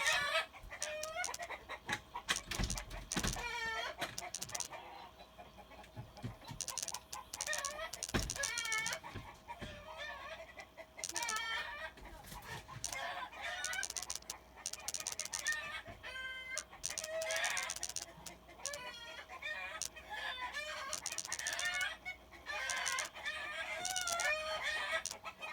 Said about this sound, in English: I have 5 roosters on my porch attacking one hen.